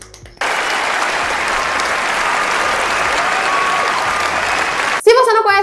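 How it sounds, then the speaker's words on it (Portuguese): Loud, steady audience applause fills the space for about five seconds after a brief quiet start, ending with a voice rising over it. "Uma salva de palmas"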